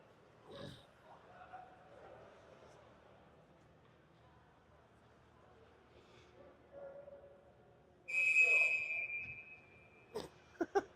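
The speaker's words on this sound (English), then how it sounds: "See, it's a very angry whistle." At a Hatters versus Cyclones ice hockey playoff game, a referee's whistle gives one sharp, shrill blast lasting about a second over a quiet arena murmur, followed by a couple of brief clicks.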